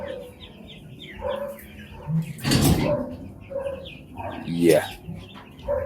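Broiler chickens cluck in a brooder, repeated close clucks and calls rising and falling, with a couple of louder squawks and a person talking briefly among them.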